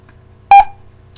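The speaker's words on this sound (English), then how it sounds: "There's that beep again, character 7." A single short computer beep from printing the ASCII bell character 7: a clear electronic tone, loud and alone against a quiet background, lasting about a tenth of a second.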